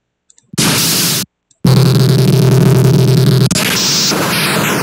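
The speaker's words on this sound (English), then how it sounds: "It's a shooting sound effect, or damage." Randomized retro synth shooting or damage effects from BFXR for a space shooter game: a short burst of harsh white-noise static, a brief gap, then a longer crackling noise blast with a buzzy low hum, ending in a rising whistle.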